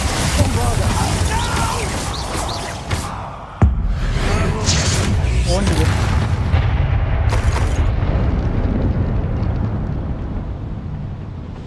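Spells fire off in a Hogwarts game battle, a sudden sharp boom near the middle standing out from a dense bed of magical blasts, crackles and rumbling effects, with a voice calling out over the noise.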